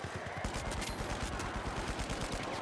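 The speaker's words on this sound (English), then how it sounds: "I'm getting shot by someone else." Rapid automatic gunfire in The Finals strikes the player, a dense burst of closely spaced shots rattling on steadily for a few seconds, fairly quiet in the mix.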